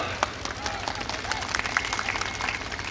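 Audience at an Indian mushaira poetry gathering breaks into scattered then steady clapping, many distinct hand claps at moderate distance with light crowd murmur beneath.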